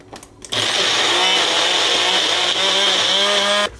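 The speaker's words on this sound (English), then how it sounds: "Now grind it to a smooth paste." A kitchen mixer grinder runs at full power for about three seconds, grinding ridge gourd chutney (thogayal) to a smooth paste. It starts abruptly and stops abruptly, with a loud, steady, high-pitched motor whine and a rough churning underneath. No one speaks.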